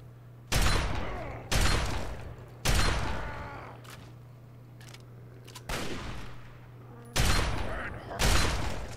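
Gunshots in the video game Fallout 3, six loud, close, separate blasts spaced one to two seconds apart, each with a short decaying tail, over a steady low hum.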